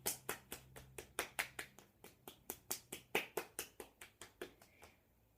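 About two dozen sharp hand claps in a steady, quick rhythm during a foot yoga session, close and distinct, with no talking.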